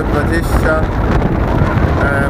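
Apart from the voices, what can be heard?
strong wind on microphone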